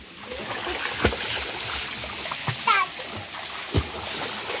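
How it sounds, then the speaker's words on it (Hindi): Water splashes as a child bathes in a village water tank, scattered splashes and sloshing among chatter, with a few sharper slaps of water standing out. "ये देखो कैसे नहा रहा है होदी में।"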